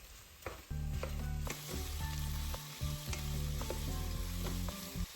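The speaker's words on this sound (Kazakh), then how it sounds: "Барлығын жақсылап араластырып, қатты отта 5 минуттай қуырамыз." Carrots and onions fry hard over high heat and are stirred, a loud steady sizzle broken by repeated scrapes and clinks of the stirring utensil against the pan, with no voices.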